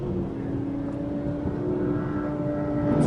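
A Mercedes-Benz SLS AMG engine drones steadily on the Streets of Willow track as the car builds speed, a sustained throaty tone that rises slightly in loudness toward the end, with no talking.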